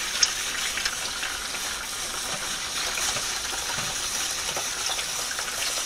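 Liquid being strained for cheese making, a steady soft hiss of pouring and trickling through a strainer, continuous and close, with a small clink near the start.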